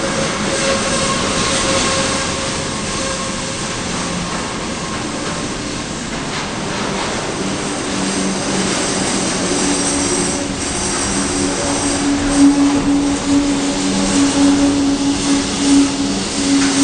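Freight train hauled by three GL-class locomotives passing at Gosford, a loud continuous rumble of wagons rolling close by, with rising metallic wheel squeal in the second half.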